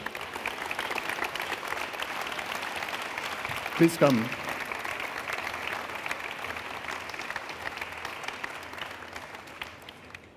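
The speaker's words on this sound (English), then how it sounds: "you can applaud them" An audience applauding award winners at a ceremony, with sustained, dense clapping throughout, steady and moderately loud, and a voice briefly speaking over it.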